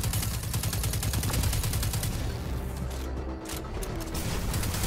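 Rapid, continuous gunfire from weapons in the sci-fi shooter game Destiny 2, a dense rattling stream of shots with heavy low booms, loud and close throughout with no speech.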